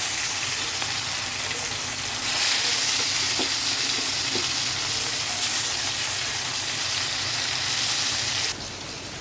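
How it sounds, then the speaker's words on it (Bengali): Pieces of fish fry in hot oil with a dense, continuous sizzling hiss that stays loud and close. The sizzle briefly intensifies at a couple of points, and no one speaks over it. "এদিকে তেল গরম হয়ে গেছে মাছগুলো একে একে ছেড়ে দিচ্ছি একদম লাল লাল করে ভেজে নেবে মাছগুলো"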